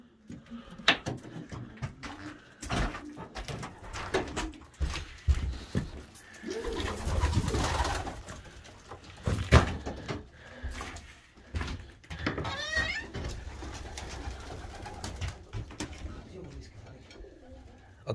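Pigeons, including young birds at a feeder, coo softly and repeatedly up close, with low rolling calls rising and falling over rustling and occasional quiet talk.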